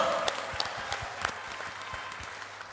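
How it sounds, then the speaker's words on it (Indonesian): An audience at a regional Democratic Party gathering in North Sumatra applauds the party chairman, with scattered distinct claps over a moderate crowd wash that thins out toward the end. "mari kita beri tepuk tangan untuk Ketua Umum Mas Agus Harimurti Yudhoyono"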